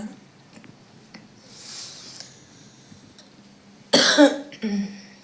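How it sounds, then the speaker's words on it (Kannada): A sharp cough from a person with a bad cold bursts out, followed by a second shorter cough, after a stretch of quiet room tone with a faint hiss. "ಕೆಮ್ಮು ನೆಗಡಿ ಜೋರಾಗ್ಬಿಟ್ಟೈತ್ರಿ ರೀ ನನಗೆ"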